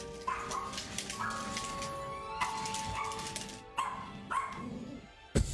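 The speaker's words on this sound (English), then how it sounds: "Just keep barking at nothing." A dog barks at nothing indoors, several sharp yips and barks spaced through the stretch with a whimpering edge, moderately close over background game sound.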